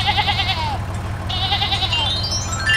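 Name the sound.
sheep bleating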